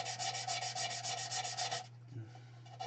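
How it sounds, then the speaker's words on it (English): Sandpaper rubs by hand along the narrow curves of a wooden platter rim, making quick, rhythmic scratchy strokes close up that stop abruptly near the end, leaving a faint hum. "Some are quite narrow, quite hard to get the sandpaper in."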